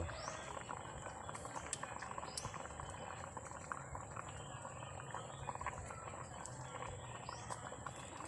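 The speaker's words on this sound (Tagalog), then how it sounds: "Ito guys, kumukulo na." A pot of mung beans bubbles at a steady rolling boil, with continuous dense popping and gurgling and faint high chirps in the background.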